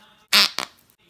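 Squeezed fart slime lets out two short, close, wet farting blurts, a loud one followed by a quicker, weaker second, then quiet.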